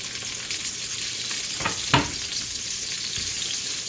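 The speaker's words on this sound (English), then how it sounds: "So I'm going to saute this for a couple minutes" Onions sautéing in a pan over a medium flame, giving a steady bright sizzle with a couple of short scraping stirs in the middle and no talking.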